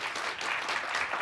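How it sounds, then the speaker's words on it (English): Brief burst of crowd applause at a healthcare conference honoring military veterans, dense clapping throughout the short moment. "Give them a round of applause, please."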